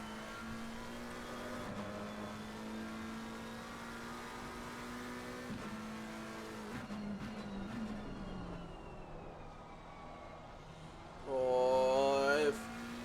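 Race car engines in Assetto Corsa Competizione at Oulton Park hum steadily, with gear changes and shifting pitch, building to a loud rising rev near the end, under a commentator's voice.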